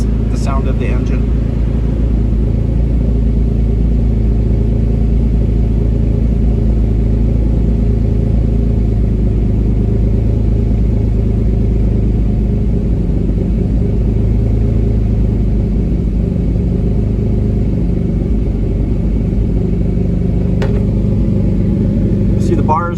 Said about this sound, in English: it will really settle down the sound of the engine.